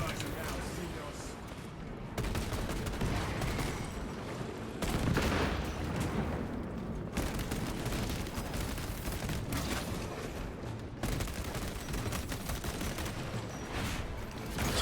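Heavy bolt rifle gunfire from the video game Space Marine 2, a dense, sustained barrage of booming automatic shots that runs almost unbroken, with explosions mixed in and a voice talking over the combat.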